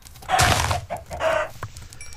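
Minecraft chicken clucking, two short close squawking clucks in quick succession followed by a faint tap, loud and alone with no talk.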